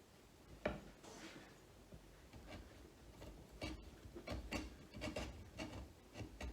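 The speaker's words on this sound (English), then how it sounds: "2 hands on the chisel, always chiseling away from yourself" A sharp chisel pares thin shavings from the wooden joinery of a camp stool frame, giving faint, close scraping and rasping strokes in short irregular bursts with soft knocks between them.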